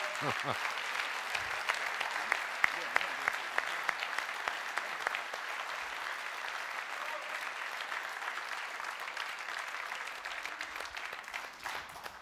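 Conference audience applauding steadily and loudly for a departing director general, a dense continuous clatter of clapping hands with faint voices mixed in.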